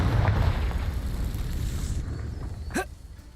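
A Confringo blasting spell explodes in Hogwarts Legacy, a loud low booming burst with a rumbling tail, followed by a short sharp whooshing zap near the end.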